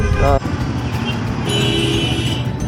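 Steady engine drone of a Royal Enfield Classic motorcycle being ridden in Bangladesh at moderate speed, with road and wind noise throughout and someone talking over it.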